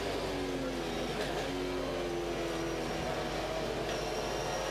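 Onboard a V8 SuperTourer race car at Hampton Downs, a loud engine roars continuously, its pitch rising and dropping slightly through gear changes with no break.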